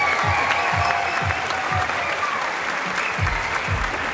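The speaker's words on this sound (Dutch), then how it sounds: "Uw applaus voor acteur, zanger en presentator Timo Desco." Audience at the Mister Gay Belgium 2018 gala applauding a jury member in a continuous, even burst of clapping that fills the room at moderate loudness.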